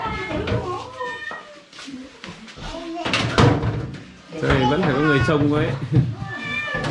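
A cat meows several times in a home kitchen where a meal is being prepared, its rising and falling cries mixed in with steady nearby conversation.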